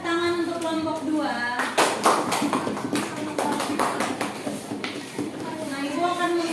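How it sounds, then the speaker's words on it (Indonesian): A classroom claps for group 2, a short burst of clapping by students and teacher in the middle, with voices talking before and after it. "Ya, kita beri tepuk tangan untuk kelompok 2."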